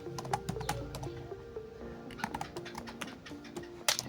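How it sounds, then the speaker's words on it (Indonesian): Computer keyboard typing while a film-ticket database table is entered in an SQL tutorial, irregular quick key clicks close by, with a faint background tone and no voices. "kita ketikkan film, kemudian ketikkan juga nama kolomnya"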